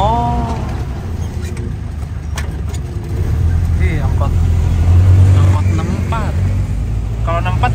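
An angkot minibus rumbles past nearby on a street, its engine swelling to a louder low drone midway, while people talk over it.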